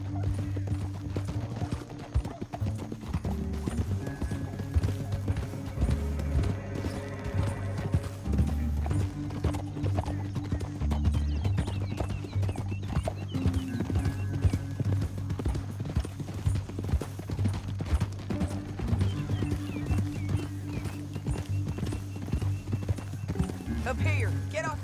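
Horse hooves clip-clop steadily at a gallop through a Red Dead Redemption 2 game scene, loud and continuous under game music, with a horse whinnying briefly and a character's voice talking over the riding.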